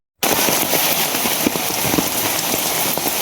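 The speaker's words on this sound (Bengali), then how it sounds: "বৃষ্টি কতক্ষণ আগে একটু কম ছিল আর কি, এখন আবার বাড়ছে" Heavy rain pours down outdoors while people gather to watch a football match in Bangladesh during a power cut, a dense, steady hiss of drops striking surfaces up close, with no talking.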